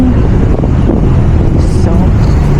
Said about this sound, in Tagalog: Malamig, mahangin.